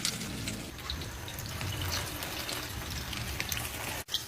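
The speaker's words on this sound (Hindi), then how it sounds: "कबाब को हम शैलो फ्राई करेंगे, डीप फ्राई नहीं करेंगे।" Potato chapli kababs shallow-fry in oil over a slow flame, giving a steady, even sizzle and crackle with small pops, continuous throughout and close, with a brief clunk near the end.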